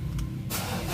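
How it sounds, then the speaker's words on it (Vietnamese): A Ford Ranger pickup's engine starts up during a power steering fluid change at home, the idle chug giving way to a sudden louder catch and steady running roar, close by. "Rồi tiếp theo thì mình sẽ đè máy nổ"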